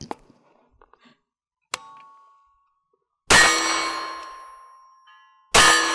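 Pistol-caliber carbine rounds strike steel targets outdoors, each hit a sharp metallic clang that rings out and slowly fades: one lighter ping, then two loud, ringing impacts a couple of seconds apart.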